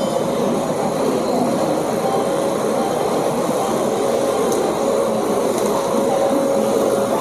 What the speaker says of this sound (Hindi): ये है वडोदरा शेड का WAP 7 लोकोमोटिव